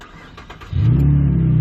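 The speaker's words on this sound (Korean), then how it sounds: "그럼 바로 시동을 한번 걸어보도록 하겠습니다." A Chevrolet Camaro's engine, just jump-started after a dead battery, cranks briefly and catches, then settles into a loud, deep rumbling idle close by with a strong exhaust note.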